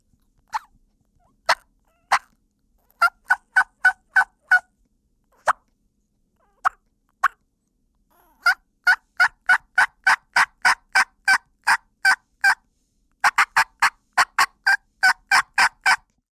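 A person on a mouth diaphragm call imitates a turkey with sharp, clipped yelps and cutting notes, first scattered and then in fast rhythmic runs, clear and close against silence.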